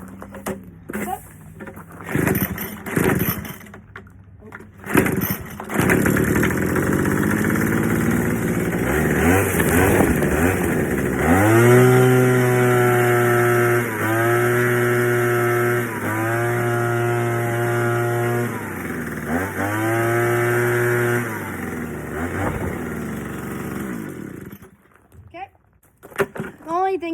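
A Troy Bilt Jet Technology leaf blower with a small two-stroke engine. It is pulled and sputters to life, then runs loud and close with a buzzing whine that rises and dips as the throttle rises and falls, and a voice speaks briefly.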